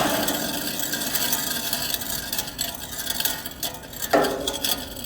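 An old Ruud R22 air conditioning unit's motor, bound up and worn from weather, runs with a steady, rough growling drone that stays close and continuous, with scraping, rasping textures and a brief clunk near the end.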